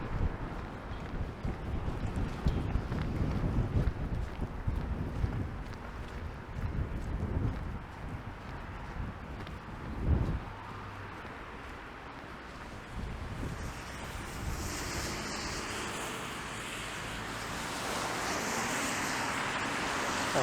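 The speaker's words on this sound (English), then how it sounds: "that wind is picking up" Strong wind gusts roaring past the microphone on an outdoor Montreal street in the Plateau neighbourhood in February, a steady broadband rush that swells and buffets, growing brighter and louder toward the end, with no talking.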